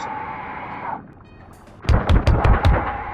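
A sudden rapid string of loud, booming gunshots in the video game Rust after a moment of quieter ambience, sharp cracks close together with rumbling echoes.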